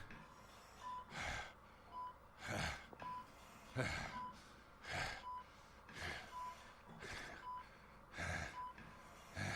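Heavy, rhythmic breathing from a character in Batman: The Telltale Series, about eight deep, strained breaths at a steady pace, close and loud, with a faint repeating electronic beep in the background.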